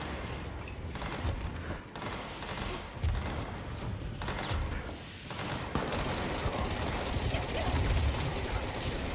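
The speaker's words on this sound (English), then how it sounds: "I don't know where they're shooting me from." Dense gunfire in a shooter video game: continuous rapid rattling bursts and booms that swell and fade, loud and sustained for several seconds without a break.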